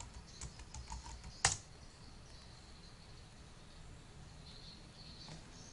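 Computer keyboard typing while entering a Wi-Fi login page address, a quick run of light key clicks with one louder click near the start, then quiet background hiss, close by with no voices.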